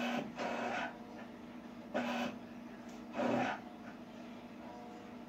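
A treadmill running in a basement makes a low mechanical hum. Soft whooshing thumps repeat roughly every second and a half, steady and moderately faint, with no voices.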